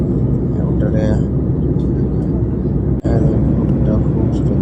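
An airliner takes off from Najaf airport in Iraq, heard from inside the cabin as a loud, steady engine roar that continues throughout with a brief dip midway.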